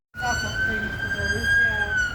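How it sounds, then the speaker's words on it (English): An ambulance siren sounds in traffic in Melton, starting suddenly after a brief silence and then wailing loudly and steadily with a wavering pitch. "another ambulance here in Melton, trying to get through traffic"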